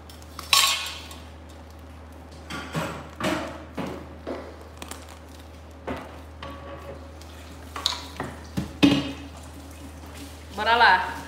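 Dishes and cutlery being washed in a bakery kitchen make intermittent clinks, clatters and scrapes of plates and utensils, with a faint sound of running water and occasional talk.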